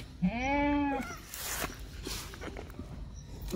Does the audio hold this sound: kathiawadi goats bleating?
yes